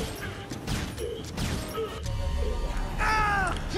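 A bird caws in the Dead Rising 3 video game, a few harsh calls near the end mixed with thuds, hits and other game noise.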